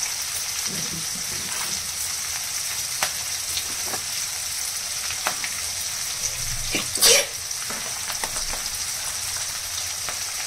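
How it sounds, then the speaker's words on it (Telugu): Steady crackling sizzle of leaves frying in hot oil, with a sharp burst of spitting partway through, no talking. "కరివేపాకు కూడా వేసుకుందాం ఫ్రెండ్స్"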